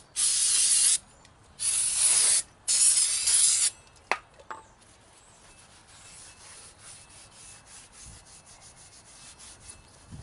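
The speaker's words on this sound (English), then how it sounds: "Now for the brake cleaner." Brake cleaner sprayed onto a semi truck axle during an axle seal change, three loud close aerosol bursts of about a second each, followed by a clank and quiet dripping and handling noises.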